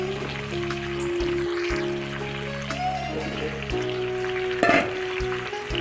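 Pumpkin and potato frying in pork fat in a pan give a loud, steady sizzle with crackling pops, close up, and a brief clatter of stirring near the end.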